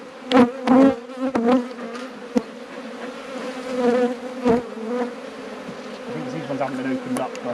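Honey bees buzz loudly and continuously around a hive close by, a dense droning hum with sharp taps and bumps as bees strike a mesh veil.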